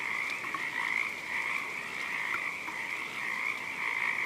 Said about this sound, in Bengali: বনের মধ্যে মাঝে মাঝে ব্যাঙ ডাকছে